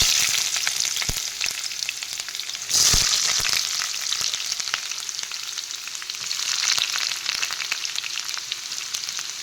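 Onions hiss and sizzle in hot oil in a wok, a close, steady frying crackle with a louder surge around the third second and occasional stirring scrapes.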